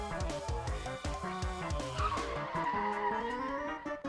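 Loud squealing tire skid from a drift in the video game Trickcal, with engine noise, sustained over a few seconds amid game-style music or effects.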